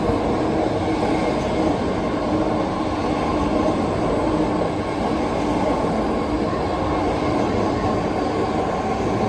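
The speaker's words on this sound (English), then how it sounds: "this train is not stopping." A BART train rumbles through Daly City station without stopping, its wheels roaring continuously and loudly on the rails with faint squealing. No one speaks.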